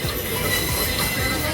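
A train running toward Tirupati rumbles steadily and close, with wheel squeal and broadband rail noise throughout, carrying faint voices.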